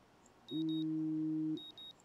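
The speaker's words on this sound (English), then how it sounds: "Is this my alarm? This is probably an alarm." Alarm going off in the video game Life is Strange: a single sustained electronic tone about a second long, alone and clear, with faint higher chirps before and after.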